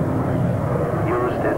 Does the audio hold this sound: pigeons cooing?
no